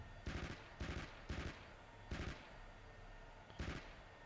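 Short bursts of 7.62 coaxial machine gun fire from a tank in the DCS Combined Arms combat simulator, five separate rapid volleys spaced irregularly with brief pauses between them, loud and close.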